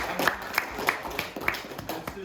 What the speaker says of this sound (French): tout le monde, applaudissez.